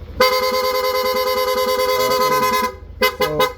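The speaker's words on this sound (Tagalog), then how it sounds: "Para gumana, long press lang po yung horn button" A Yamaha NMAX scooter horn sounds close and loud: one long, steady blast of over two seconds, a short pause, then a quick series of rapid staccato honks.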